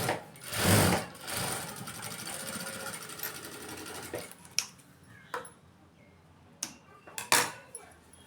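A sewing machine stitches a dart on a silk blouse. It starts with a close, buzzing run of stitching that fades out, followed by a few scattered mechanical clicks and taps at a low level, with no talk.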